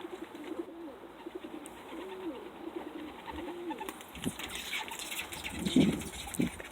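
Pet pigeons coo softly and repeatedly at a quiet outdoor spot beside a vehicle tailgate, with low rolling calls recurring in a gentle rhythm and a few louder knocks and rustles near the end.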